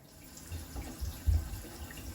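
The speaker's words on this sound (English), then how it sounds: "So pot washing time now, everything's been eaten" Water runs into a kitchen sink for washing pots after a home-cooked budget meal, a soft, uneven splashing flow with a few louder gushes, quiet and close, with no talking.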